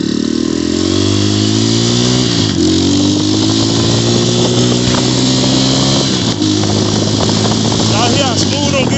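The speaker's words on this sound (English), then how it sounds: "Y'all hear how smooth them gears change?" A loud, close Xmotos 250cc dirt bike runs steadily on a short ride through woods and a neighborhood, its engine drone shifting pitch cleanly at a couple of smooth gear changes.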